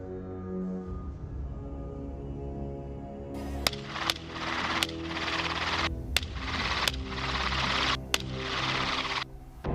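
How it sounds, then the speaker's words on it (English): Rifle shots fired from a helicopter at wild boars, a series of sharp cracks spaced irregularly over a steady loud rotor drone. "The gunfire erupts,"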